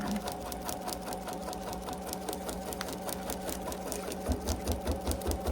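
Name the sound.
embroidery sewing machine stitching a basting box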